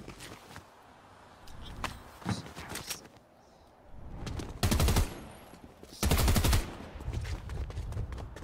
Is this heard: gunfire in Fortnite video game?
yes